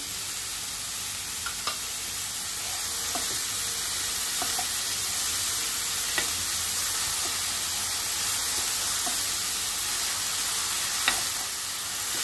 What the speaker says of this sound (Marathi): कांदा आणि शिमला मिरची आपल्याला मीडियम गॅसवरती परतून घ्यायचे आहे